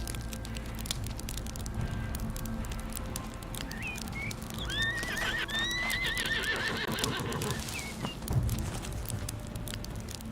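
A horse whinnies in a long, wavering call over steady ambient noise, with soft hoof clops and crackling in the background, on a ranch in the video game Windstorm: An Unexpected Arrival.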